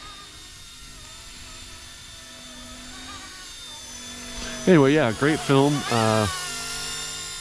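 An RC Era MD 500 Little Bird model helicopter flies with a steady high-pitched rotor and motor whine throughout, while someone talks over it near the end.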